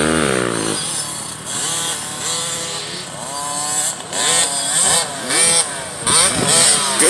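Motocross motorcycles racing on a practice track, engines close and loud, revving up hard then backing off repeatedly as the bikes climb a step-up jump and corner together.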